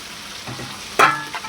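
Tomatoes and mint leaves frying in a pan, a steady close sizzle with a louder burst as they are stirred in, continuing on its own.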